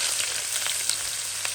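Chopped onions frying in hot oil for prawn biryani, a close, steady hiss and sizzle with faint crackles and no talking.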